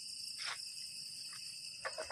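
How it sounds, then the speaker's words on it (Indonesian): A faint, continuous high trill of forest crickets fills the quiet woods, broken only by a few short, soft noises in the background. "Dengaran suara jangkrik kan."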